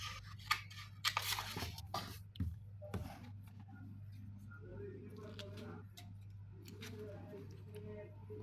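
Scissors snip through paper while cutting out a paper crown, giving a few crisp cuts and crunchy rustles early on, then softer scattered ticks over a steady low hum in a quiet room.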